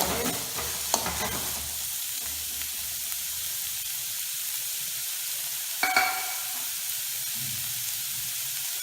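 Onions and cumin seeds fry in a pan for toor dal, a continuous crackling sizzle with a couple of sharp stirring clinks, one early and one midway, and no speech.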